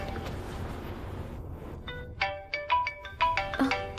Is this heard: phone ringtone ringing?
yes